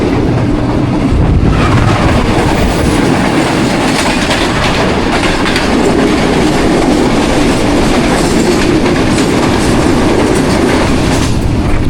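Shalimar Express passenger train running steadily over a track crossing, with loud continuous rumble and rhythmic clickety-clack of wheels on rail joints throughout, heard close from on board.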